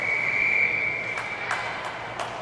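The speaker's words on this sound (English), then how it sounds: "Whistle goes" A referee's whistle blows one long, steady blast at an ice hockey tournament game, fairly loud over the rink's background noise, followed by a few sharp knocks.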